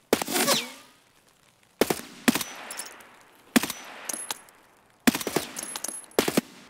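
Gunfire in Escape from Tarkov at the Lighthouse, short rapid bursts of close, sharp shots separated by brief pauses, each burst ringing off with a fading echo.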